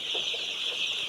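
A hen that has recovered from flu gives a few faint, low clucks under a steady hiss of background noise.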